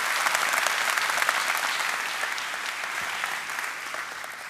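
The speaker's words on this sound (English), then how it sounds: "Please join me in giving these individuals a well-deserved round of applause." A graduation audience for a police academy class claps steadily, a dense wash of many hands that stays loud throughout and eases off slightly toward the end.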